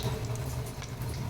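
Mustard seeds sizzling in a little oil for tempering, with a constant close crackle and scattered tiny pops over the frying hiss in a short burst.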